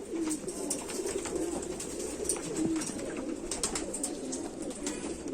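Indian pigeons bred from Chandakhani stock coo steadily in a group. Several low, rolling calls overlap at close range, with occasional rustles and flutters in a busy loft.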